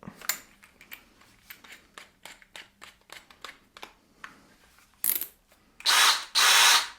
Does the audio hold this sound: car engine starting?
no